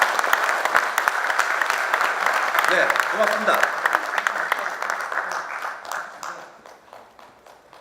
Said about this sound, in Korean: 다시 한번 이사장님을 추대하는 박수를 여러분께서 보내주시면 감사하겠습니다.